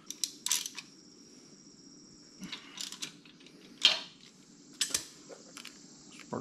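Spark plug threaded back into the cylinder head of a Moto Guzzi V85tt motorcycle during a valve adjustment, heard as a run of small close metallic clicks and ratcheting taps over a low steady background hum.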